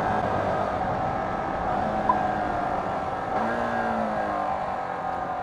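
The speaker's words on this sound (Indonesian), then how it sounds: "Wow, engine brake-nya enak banget, halus banget engine brake-nya." A Yamaha R15 motorcycle engine braking while being ridden, a steady droning engine note with wind rush and shifting tonal whine as the revs fall, close and loud without talk.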